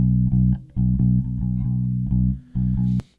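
A bass guitar plays with its DI and mic'd amp tracks blended, giving a loud, full, sustained low line of separate plucked notes and brief gaps, plus a small noisy burst at the end.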